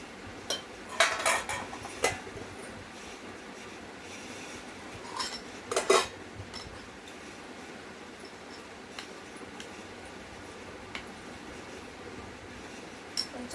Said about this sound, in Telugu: నేనైతే రైస్ పెట్టుకుంటున్నాను.